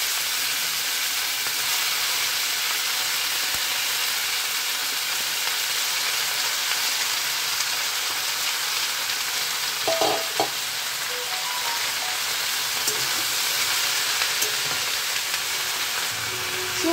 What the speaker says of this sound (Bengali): সর্ষে শাকটাকে এবার ভালোভাবে খানিকক্ষণ নাড়াচাড়া করে নিচ্ছি।